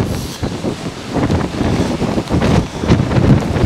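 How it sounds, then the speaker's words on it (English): Strong, gusting wind buffets a tent pitched on an exposed hilltop during Storm Bert, with gusts around 30 mph roaring steadily and rising in bursts, close and loud with no talk. "But so far, 30 mile an hour winds."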